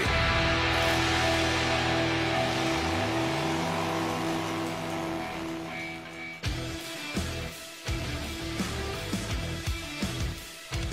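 Motorcycle engines rev loudly, their pitch sweeping up and down in long smooth arcs, then breaking into sharper throttle bursts and pops toward the end, with no talking over them.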